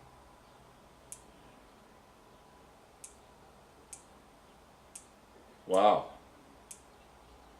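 Close, sharp single clicks from a Woltis 6-24x50 rifle scope elevation turret sound at roughly one-second intervals on a tabletop, crisp and positive, with a brief spoken exclamation between them.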